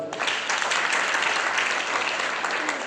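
A church congregation applauding loudly at a sermon by Pastor Francis Masih, dense continuous clapping from many hands, close and sustained throughout with no talk over it.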